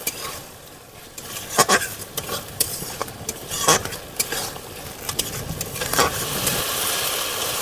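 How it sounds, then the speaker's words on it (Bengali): Mustard paste and masala stirred in a pan while cooking a fish curry, with repeated scraping strokes of a spatula over a soft, steady sizzle, close and fairly loud. "সর্ষে বাটা দিয়ে বেশ কিছুক্ষণ নেড়ে নিতে হবে।"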